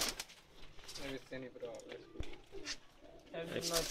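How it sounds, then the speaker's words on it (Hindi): Pakistani pigeons coo in a loft or rooftop setting, their soft repeated calls mixed with flapping and bird chatter while people talk over them throughout. "जितने भी अभी कबूतर दिखाएंगे अरसलान भाई के और अब्दुर्रहमान भाई की,"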